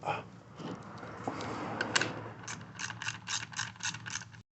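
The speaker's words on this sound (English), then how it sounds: "10 millimeter, tighten these 2 guys down" Ratchet clicking as two 10 mm bolts are tightened on the carburetor of a Ryobi 3000 psi pressure washer with a Honda GCV160 engine; after a rustling start, a close, quick run of regular clicks follows, alone with no talk.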